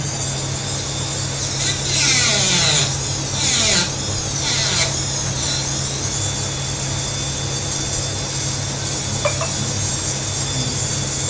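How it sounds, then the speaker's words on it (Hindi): A drill machine cuts into the metal shield of a OnePlus phone, giving a loud, steady whining grind with a few swelling bursts over a constant high-pitched hum. "हम सबसे पहले एक ड्रिल मशीन से"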